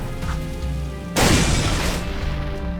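In the video game Jak II, a sudden, loud explosion bursts in after a quiet, humming background and rumbles for over a second before slowly fading.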